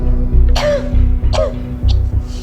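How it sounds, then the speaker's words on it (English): Several harsh, close coughs in quick succession, with a low hum running underneath. "How long have you had this cough?"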